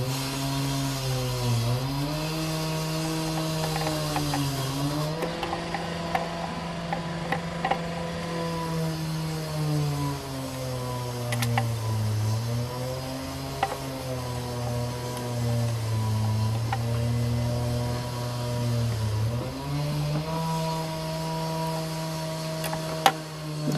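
Road works outside give off a steady, droning machine noise whose pitch slowly rises and falls, with faint clicks and knocks scattered through it. It is moderately loud and continuous, with no talking.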